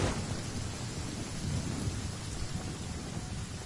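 A thunderstorm in the video game Genshin Impact: steady rain with low rumbling thunder rolling throughout, a dense, continuous wash of storm noise with no voices.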